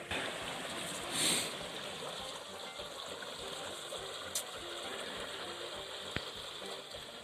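Creek water flowing at a crossing on Craig's Creek, a soft continuous wash of running water heard from nearby, with a brief louder swell early on and a couple of faint clicks.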